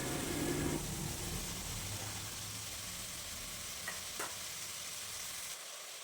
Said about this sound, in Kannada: ನೆನೆಸಿಟ್ಟ 1 ಕಪ್ ಬಟಾಣಿ ಹಾಕಿ ಎಲ್ಲ ಒಮ್ಮೆ ಫ್ರೈ ಮಾಡುವ